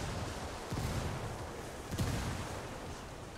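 Grenade explosion in the Ghost Recon Wildlands video game: two dull booms about a second apart, heavy and rumbling, rising out of a dense, constant wash of battle noise.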